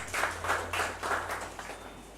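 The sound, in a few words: audience applause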